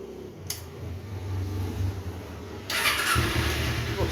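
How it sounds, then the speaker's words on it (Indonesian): A red 2011 Kawasaki Ninja 250 with a carburetor idles quietly before its engine fires up with a single starter press, jumping to a louder, steady running note nearby. "Sekali starter langsung jos, langsung jos sekali starter ya"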